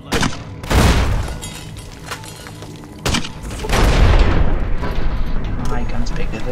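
Gunfire in Fallout: New Vegas, two loud blasts a few seconds apart, each followed by a long rumbling roar, with a voice talking over them.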